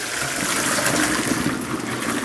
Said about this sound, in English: I'm going to go dump the noodles over here